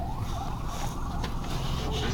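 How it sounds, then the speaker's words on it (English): An ambulance siren wails, rising and falling continuously under loud roaring traffic noise. "Now you hear the sirens?"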